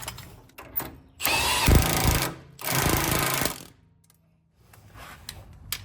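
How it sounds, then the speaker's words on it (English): A Jeep Gladiator's sway bar link is tightened onto the sway bar with a 19mm socket, likely on an impact gun: two loud rattling bursts of roughly a second each, close up, with quiet pauses and a faint ticking ratchet between them. "using a 19mm socket and wrench, we can secure the sway bar link to the sway bar"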